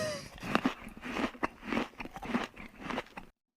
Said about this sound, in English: We're still using these chewing sound drops